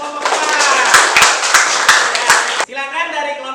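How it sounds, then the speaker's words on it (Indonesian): A classroom of students claps for a presenting student group, a dense burst of handclaps that carries on for a few seconds before breaking off into chatter. "berikan tepuk tangan untuk kelompok 4"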